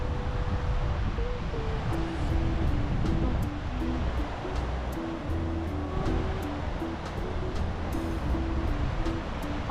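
Ocean waves washing onto a beach at Da Nang, Vietnam, a steady broad surf rush under a continuous hum and faint tonal background sounds, with no clear talk.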